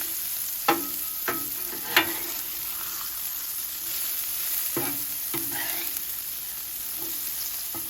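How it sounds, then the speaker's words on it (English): Onions frying on a Blackstone flat-top griddle, a steady soft sizzle with a few sharp scraping spatula strokes near the start and middle, no voices. "The main thing that's taking a lot of cooking time are these onions."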